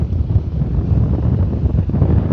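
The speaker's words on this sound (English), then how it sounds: "Give you a little more of appreciation of just how windy it is." Loud, heavy wind buffeting the microphone outdoors while flying a radio-controlled model plane, a constant low roar with gusty rumbles and no other sounds.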